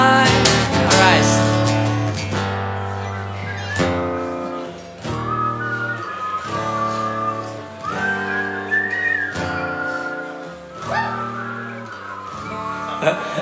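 Concert crowd whistling a melody along to a live song, bright sustained whistled notes over strummed instrumental backing with sung voice, loud and continuous across the stretch.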